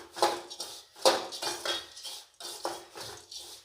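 A utensil stirs sev mamra (puffed rice and sev) in a pan, producing repeated scraping, clinking strokes in an irregular rhythm, close and fairly loud, with no talking.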